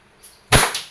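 Faint mechanical click, then one sharp, loud crack from a WE Airsoft 2011 Hi-Capa T-Rex gas pistol fired at close range, with a softer metallic snap just after as the report fades.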